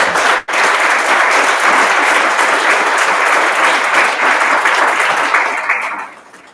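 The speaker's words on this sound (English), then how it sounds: "Please give them another round of applause." Loud, sustained audience applause at the Ripple of Hope award event, a thick wash of clapping after one brief dropout near the start, holding steady for several seconds before tapering off at the close.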